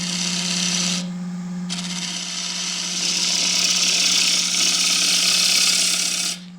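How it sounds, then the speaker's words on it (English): A skew chisel cuts a tenon on a sapele bowl spinning on a wood lathe, a close, steady rasping scrape over the lathe's constant motor hum, pausing once briefly near the start, with no talking. "Use a little skew to get the tenon."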